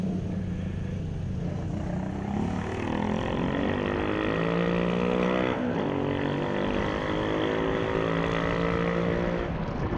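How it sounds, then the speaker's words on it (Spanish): A Moto Guzzi V85TT motorcycle exhaust runs steadily and fairly loud throughout, with a rising and falling engine tone as it revs, heard alone without talk. "Muy agradable el escape"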